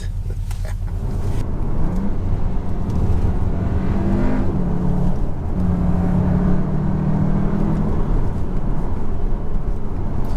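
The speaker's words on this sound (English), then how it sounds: "that launch that we just did wouldn't have happened the way it did had this not been four-wheel drive" A 2022 Cupra Formentor with four-wheel drive launches hard, its engine note droning and climbing steadily for several seconds after a brief quieter start, with no voices.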